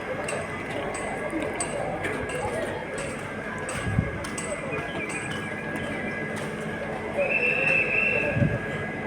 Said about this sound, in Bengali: এই দেখুন ট্রেনটা পাহাড়িয়া এক্সপ্রেস দাঁড়িয়ে আছে দীঘা স্টেশনে।